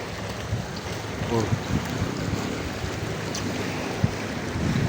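Steady rushing of waves and surf close by at a rocky shoreline fishing spot in Cardona, Rizal, with wind buffeting the microphone and a low boat engine hum underneath; no talking.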